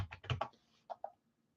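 A few keys are struck on a computer keyboard up close, a quick burst of four or five clicks followed by two separate taps after a short pause, then quiet.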